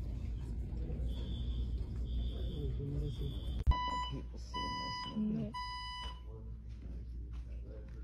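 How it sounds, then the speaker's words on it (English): Fire alarm sounding inside an AMC movie theater, its repeated electronic tones and beeps cutting through the room's noise and murmuring voices during a screening. "Fire alarm goes off and people still watch the movie."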